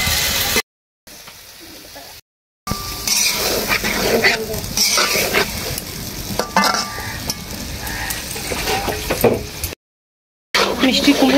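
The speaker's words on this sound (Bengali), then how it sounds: "ভালো করে মশলাগুলোর সাথে নাড়িয়ে নেব।" Pumpkin being stirred with spices in a hot pan, sizzling and frying with scraping spatula strokes, steady and close, interrupted by short gaps, with a voice speaking at times.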